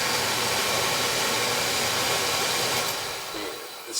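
A newly installed oil boiler burner fitted with a hollow nozzle fires up with a steady, dense roar that holds evenly before easing off slightly toward the end.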